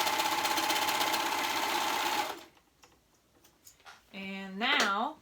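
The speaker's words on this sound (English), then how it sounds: "So I'm sewing this up." Sewing machine stitching a dress liner and outer fabric together, a steady rapid mechanical whirr for about two seconds before stopping, then quiet handling noises and a person speaking.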